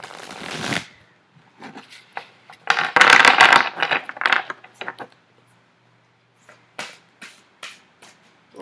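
A deck of large tarot cards is shuffled up close in several riffling bursts, separated by pauses and soft taps as the cards are squared.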